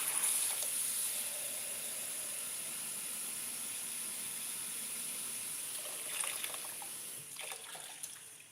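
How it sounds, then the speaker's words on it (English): Water running from a household tap into a container, a steady close hiss that continues for several seconds, with a few faint knocks and shifts near the end. "I gotta put some water in."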